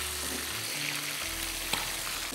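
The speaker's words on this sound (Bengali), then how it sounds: "নিয়ে এই ফোড়নগুলো দিয়ে আরেকটু নেড়ে নেওয়া হবে" Tempering spices, including nigella seeds, sizzle and crackle in hot oil as they are stirred in a pan, a close, continuous frying hiss with one small knock.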